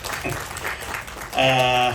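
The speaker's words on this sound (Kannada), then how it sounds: "ಒಂದು ದೊಡ್ಡ ಚಪ್ಪಾಳೆ ಸರ್ ನಿಮಗೆ" Audience applause breaks out near the end of a brief spell of talk at a Kannada film event, a short burst of clapping following the speech.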